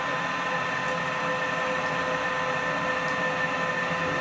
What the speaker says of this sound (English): So let's just move our machine.